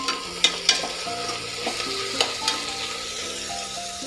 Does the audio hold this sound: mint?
yes